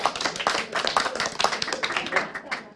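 A small group claps at an esports grand final for Combat Arms, a brief spatter of hand claps mixed with voices talking over it, moderately loud and fairly close.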